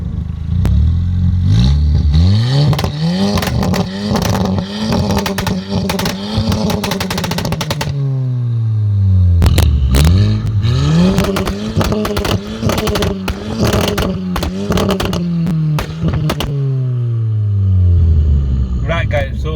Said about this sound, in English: So I've got a few clips for you guys of how the pops and bangs sound.